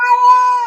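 A cat gives a single sustained meow, clear and close, with a steady tonal pitch lasting under a second and no other sound.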